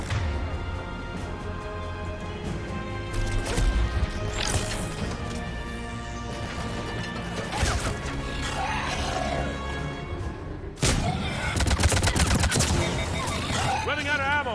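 Dense bursts of video game gunfire on an extreme budget gaming PC: rapid automatic volleys, crashes and impacts pile up loudly and continuously, with a sharp louder salvo near the end.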